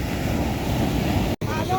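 Heavy ocean surf and large waves wash steadily around a small wooden boat, a constant loud roar of water and wind buffeting the microphone, with a brief dropout near the end.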